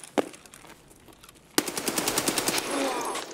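Automatic gunfire in the shooter game Escape From Tarkov: a single sharp shot, a short lull, then a rapid sustained burst of fire, loud and close.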